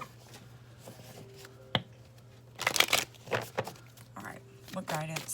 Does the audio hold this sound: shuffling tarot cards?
yes